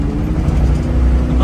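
A 1987 Ford Mustang GT with its tires spinning, a loud, steady low roar of engine and rubber that holds without a break for the whole moment.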